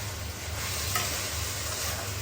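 Broccoli frying in a pan while being stirred, a steady close sizzle with a soft stirring scrape, continuous and even with no talking.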